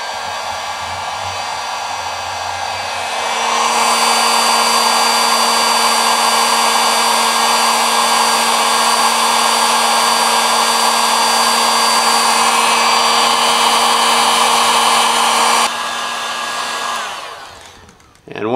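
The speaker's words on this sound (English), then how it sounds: "now I'm going to get the heat gun fired up" A heat gun roars steadily for about twelve seconds at close range with a constant whine, shrinking adhesive-lined marine-grade heat shrink tubing over a spliced power cable for a trolling motor. It starts abruptly, then cuts off, and no one speaks.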